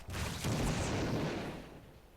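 Siege tanks and Hellbats in StarCraft 2 pound an enemy's fifth base, a dense roar of booming artillery-like blasts and gunfire that swells, holds for over a second, then tapers off.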